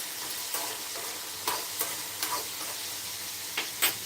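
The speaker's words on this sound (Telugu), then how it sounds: "ఇవి శనగలు అయితే రోస్ట్ చేస్తున్నాను అది కూడా ఇలా మొలకెత్తిన శనగలు" Sprouted chickpeas roast and sizzle in a pan, a steady frying hiss broken by several sharp scrapes and stirs of a utensil, close up and without talk.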